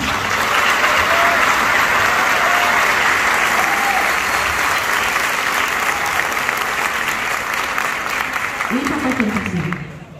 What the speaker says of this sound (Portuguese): Uma salva de palmas para a profissional.